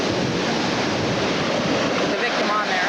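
Ocean surf at the shore: a steady, loud broadband wash of breaking waves with wind rumble on the microphone, continuous and without a break.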